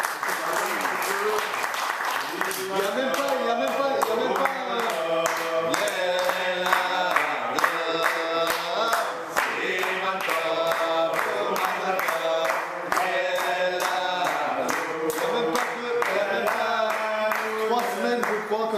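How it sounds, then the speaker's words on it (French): A crowd clapping at a celebration marking a rabbi's anniversary, steady rhythmic applause running throughout under music and someone speaking French. "Je vous demande un applaudissement particulier."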